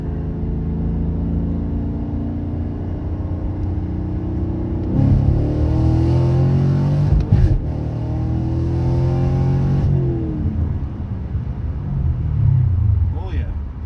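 A Chevrolet Camaro with the LT1 engine accelerating on a back road, its deep exhaust rumble swelling and rising in pitch through the middle, then settling to a steady drone, with someone talking over it.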